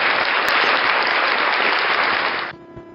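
Crowd applause at a live music cover performance, loud and steady for about two and a half seconds before cutting off abruptly into quieter room sound.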